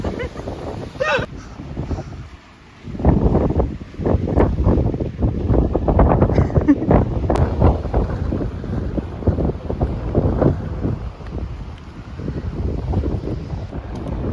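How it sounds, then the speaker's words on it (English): Strong gusty wind buffets the microphone in loud, rumbling waves that swell and ease almost continuously. "a bit windy up here"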